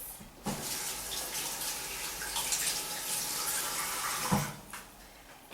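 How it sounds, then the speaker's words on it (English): Tap water runs steadily and close by while bok choy for kimchi is rinsed, with a few splashes and shifts in the flow. "Then I'm going to rinse."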